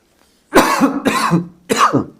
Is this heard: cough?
yes